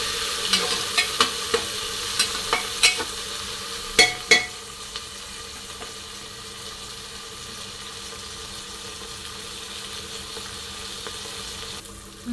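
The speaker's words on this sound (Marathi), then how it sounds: "बघा आपला कांदा परतून घेणार आहे छान छान आणि आम्ही थोडंसं मीठ टाकून घेणार आहे" Onion sautéing in oil with a pinch of salt, stirred in a pan for a khichdi: a steady soft sizzle runs throughout, with a series of spoon scrapes and taps in the first few seconds, then continuous frying alone.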